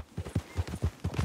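Horse hooves clip-clop at a steady walking rhythm in Red Dead Redemption 2, a close, even series of soft thuds with no voices over them.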